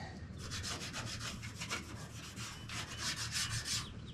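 A painted 1934 Ford Pomona panel truck being sanded by hand gives steady, close, rhythmic rubbing strokes that run without pause, with no one speaking.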